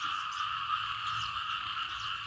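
Frogs and small paddy frogs croak in a dense, continuous chorus after rain, a steady high shimmering trill that fills the air without pause.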